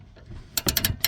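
A ratchet wrench clicks in a quick run of sharp metallic pawl ticks as it tightens a stabilizer link bolt on a Cummins 6.7 truck, close and clear after a quiet start.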